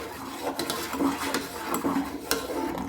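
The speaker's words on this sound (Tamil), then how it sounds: "இப்போ மீடியம் ஃப்ளேமில் வச்சு நம்ம கிண்ட ஆரம்பிக்கும்" Egg mixture being stirred in a pan over a medium flame, with a steady run of close scraping and clinking strokes against the pan and no voices.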